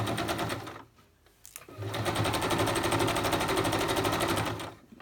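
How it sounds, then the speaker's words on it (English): A sewing machine runs in steady, rapid straight stitching, pausing briefly near the start and then whirring continuously at close range. "what's happening on my sewing machine. I'm just straight stitching down"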